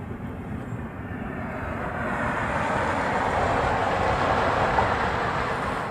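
Broadband jet roar of an airliner at a busy airport with a reef runway, a Hawaiian flight arriving from Kona, rising slightly and holding steady, loud and continuous with no talk.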